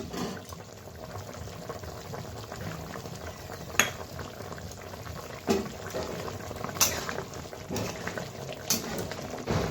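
Foli fish curry with potatoes simmering in a pan gives a steady close bubbling hiss, with occasional louder pops and sputters rising through the dense, even boil.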